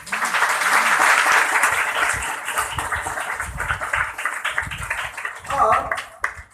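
A congregation at a prayer house claps loudly in praise, the dense applause filling the space while voices speak and call out over it throughout.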